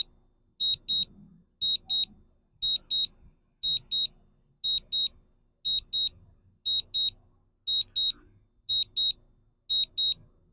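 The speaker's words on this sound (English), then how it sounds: "they wish they could turn that beeping off" A drone's warning alarm beeps in steady paired pulses, two high tones repeating about once a second, with faint background noise underneath and no speech, during a night flight.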